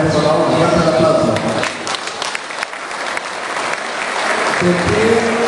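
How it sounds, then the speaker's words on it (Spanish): A crowd at a collective wedding ceremony for 78 couples breaks into loud, sustained applause, with voices mixed into the clapping. The sound dips briefly in the middle, then swells back to full strength. "Fuerte el aplauso."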